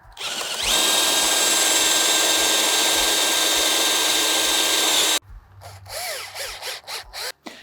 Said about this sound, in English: all we need to do is penetrate that handrail with our drill bit, and the screw will grab a lot of material in there